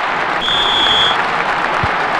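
Football stadium crowd at an Africa Cup final, a loud continuous roar of cheering and applause filling the space, with a brief whistle-like tone above it.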